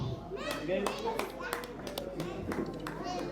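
An audience at a Ramleela honouring ceremony in Udhampur applauds senior artist Munish Dogra, with a steady patter of clapping running under a voice on the microphone.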